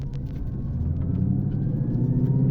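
Ford Mustang GT 2013 fitted with a Mantic clutch, driven sportily: a steady, loud low engine rumble that builds slightly over a couple of seconds, with no voices.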